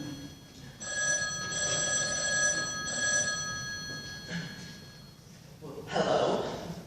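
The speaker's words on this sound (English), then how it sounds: "I have to answer the phone." An old-fashioned telephone bell rings on a high school stage during a performance of the play Harvey. It sounds in a long ringing burst and then a shorter one, with stage voices and room noise underneath.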